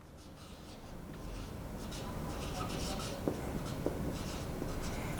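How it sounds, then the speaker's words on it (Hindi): Hand-writing strokes on a board during a maths lecture on rotation of axes, a continuous soft scratching that grows slightly louder, with a couple of sharper taps near the end, close and without speech. "ये मैं आर्टिकल लिख रहा हूं"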